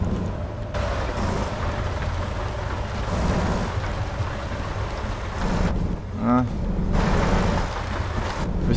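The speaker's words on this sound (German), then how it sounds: "Die erste Fahrt im Regen tatsächlich." Rain in the American Truck Simulator video game, a continuous wash of rain and wind noise over a low truck rumble, briefly cut by a short rising tone near the end.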